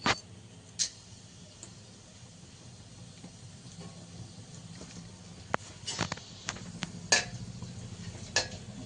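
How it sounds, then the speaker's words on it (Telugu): Whole garam masala spices fry in hot oil for a chicken biryani-style dish, a low steady crackle broken by several sharp clinks and stirring taps spread across the clip. "ఆయిల్ అయితే వేడైంది. ఇప్పుడు మనం గరం మసాలా దినుసులు వేసేసుకుందాం."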